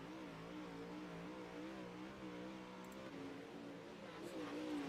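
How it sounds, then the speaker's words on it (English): Dirt track race cars work the throttle around a bumpy track, engines droning and rising and falling in pitch as they rev, heard faintly and at a distance with no talking. "you'll be able to hear how these guys are working the throttle"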